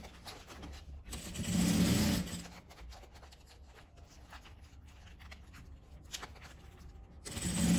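A sewing machine stitches bias binding onto a fabric storage box: a short whirring run of stitching rises in the middle, framed by quieter rustling and handling of the material.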